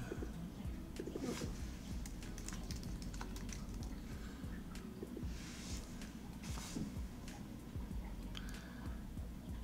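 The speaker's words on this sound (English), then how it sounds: "enter Sharing Settings in the Quick Find box" Typing on a computer keyboard in an office setting, a quick irregular run of key taps continuing throughout, moderately close, with pigeons cooing faintly in the background and no talk.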